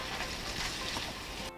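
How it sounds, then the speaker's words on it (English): Crumbed mushrooms fry in a pan on a cooking show, a dense, steady sizzle filling the whole stretch before cutting off abruptly near the end. "let's get frying"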